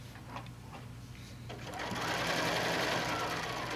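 A sewing machine stitches across a quilt seam, starting with a few soft clicks and then swelling into a loud, fast, steady whirring hum, with faint talk underneath.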